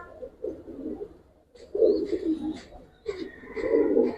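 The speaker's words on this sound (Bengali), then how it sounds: "সিলভার কবুতর দেখেন ভাই অনেক সুন্দর" Giribaz and coloring pigeons give three close, throaty cooing phrases separated by short pauses, each rising and swelling before fading.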